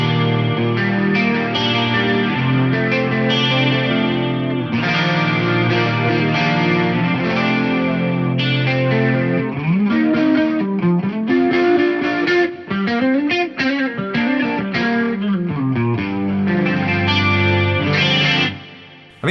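An electric guitar through a Fractal FM9, with multi-tap delay set for chorus, plays lush, shimmering clean chords and arpeggios, the notes swirling and echoing with a wide, warbling wash.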